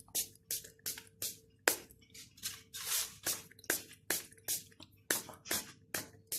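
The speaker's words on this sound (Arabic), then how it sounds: "هرشها بس بشوية مية الوش بتاعها" Water sprinkled by hand over freshly baked, golden Turkish simit sesame rings in a home kitchen, giving a series of short, crisp spritzing bursts in a steady uneven rhythm, close and clear with no talk.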